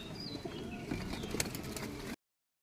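Pigeons cooing softly at a water spot in a home loft of matraj and giribaj breeds, with short chirpy calls over a steady low murmur of birds nearby.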